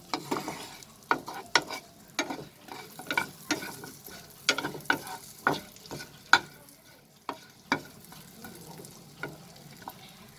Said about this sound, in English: I will fry this with butter over a medium flame friends.